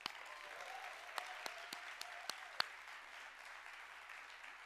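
Steady audience applause welcomes a speaker onto the stage at a live TEDx event. The clapping is a dense wash that holds at an even level throughout, with a few sharper individual claps standing out near the middle.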